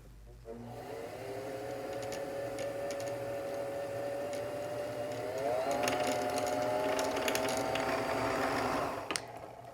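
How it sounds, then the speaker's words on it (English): A Singer Fashion Mate 362 sewing machine winds a bobbin with a steady, close mechanical whir that rises slightly in pitch partway through, then cuts off near the end with a small click. "So if you wanted to wind the whole bobbin, this will know when to stop it, and it'll stop it."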